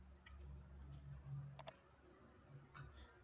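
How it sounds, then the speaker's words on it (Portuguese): A computer mouse double-clicks in Boardmaker software: two quick, sharp clicks in succession mid-clip, close and crisp against a quiet room with a faint low hum. "Dou 2 cliques rápidos no pássaro."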